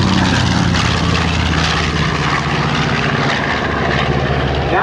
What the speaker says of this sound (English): Now, it's a pretty noisy airplane, and one of the reasons it's noisy is because the exhaust stacks are so short.